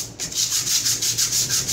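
Sandpaper rubbing over a handmade cement vase coated with a cement and putty mix, a steady rhythmic scratchy rasp in continuous back-and-forth strokes, close and fairly loud, with no voices.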